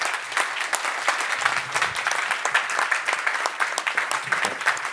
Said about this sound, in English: please welcome Anna with thunderous applause as our first speaker